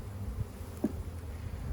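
Honeybees buzz softly and steadily as a nucleus hive is split, a faint low hum from the colony with brief swells in loudness.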